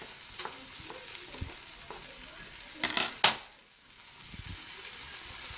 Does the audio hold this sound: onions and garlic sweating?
yes